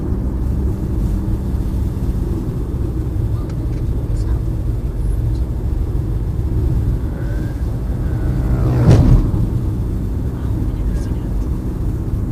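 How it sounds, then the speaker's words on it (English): A car rolls down Spur Tree Hill in Jamaica over potholes, a loud continuous road rumble with a brief jolt near the end, a voice speaking over it. "She driving through potholes."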